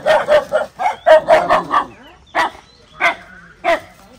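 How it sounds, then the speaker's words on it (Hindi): Several dogs barking at a house near a road toward a waterfall around Nainital, a rapid cluster of loud close barks followed by three spaced single barks. "और ये देखो कुत्ते भौंक रहे हैं यार।"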